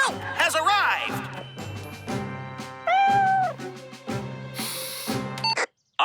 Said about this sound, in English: Don't worry, little kitty cat.